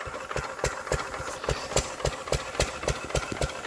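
A 1931 Petter 1.5 horsepower stationary engine runs close by with a steady, even chain of thudding firing beats, about three per second, with no talk over it.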